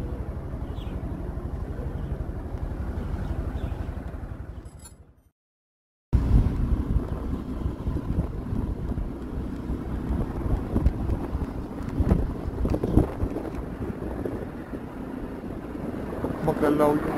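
Heavy wind buffets the microphone while riding on a motorcycle toward a city, a loud rumbling roar that cuts out for about a second and then resumes just as strong.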